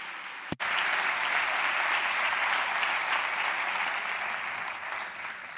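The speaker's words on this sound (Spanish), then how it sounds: "un fuerte aplauso para Felipe Bravo" An audience at a Naukas science outreach event in Valladolid, 2023, breaks into sustained applause for a speaker on forests, after one sharp knock at the start; the dense clapping stays loud and steady throughout, with no talking.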